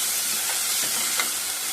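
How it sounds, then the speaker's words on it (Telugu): Green peas and potato pieces frying in oil for a tomato pulao, a dense, steady sizzle up close with faint stirring sounds and no speech. "ముందుగా పెట్టుకున్న గ్రీన్ పీస్ని కూడా ఇందులో వేసేసుకోవాలి. వీటిని కూడా 2 నిమిషాలు వేయించుకుందాం."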